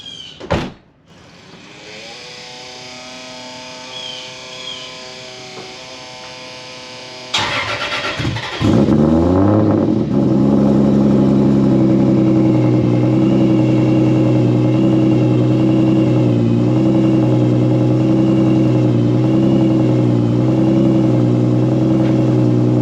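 A Toyota Supra MK4 sits quietly before its engine cranks and starts, then settles into a loud, steady, droning run close by, with a brief clunk near the start.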